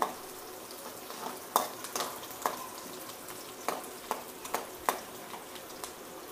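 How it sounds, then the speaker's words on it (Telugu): Onion slices and bay leaf frying in oil for carrot rice, a soft steady sizzle broken by scattered sharp clicks of a spoon stirring against the pan, fairly quiet and close, with no voices. "దీనిలోనే ఉల్లిపాయ ముక్కలు కూడా వేసి కొంచెం వేగనివ్వాలి"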